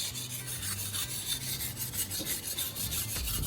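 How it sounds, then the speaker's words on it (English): Steel kitchen knife pushed and pulled across a sharpening stone at a fixed angle, a steady rasping scrape repeating in smooth, even strokes, close and clear with no voices. "I'm using smooth, consistent strokes, pushing and pulling the knife across the stone while maintaining that fixed angle."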